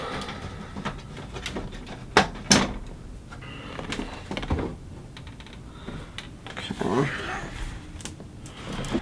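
Side door panel being taken off a Threadripper 1950X PC case, with a couple of sharp knocks and clatters around the two-second mark amid small handling clicks and rustles, over a steady background hum.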